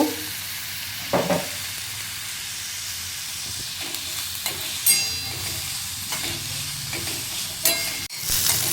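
Taco filling fries in a pan with a loud, continuous hiss and occasional scraping stirs of a spatula, close and steady throughout with no talking.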